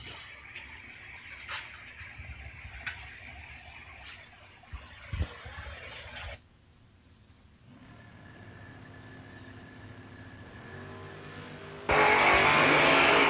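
Drag race cars, a 1969 Camaro and a Nova, idle and rumble at the starting line, with a few sharp bursts in the first half, a quieter lull, then a sudden loud roar near the end.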